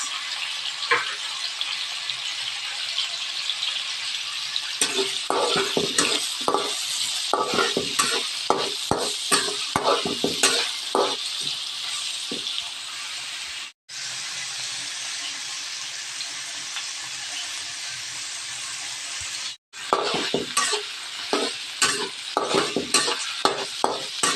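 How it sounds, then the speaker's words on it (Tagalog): Garlic, onion, ginger and tomato sizzle loudly as they sauté in a pan, with quick, irregular spoon scrapes and taps over a constant frying hiss that drops out briefly twice. "Iginisa ko po muna ang bawang, sibuyas, luya. Lagay na po natin ang kamatis."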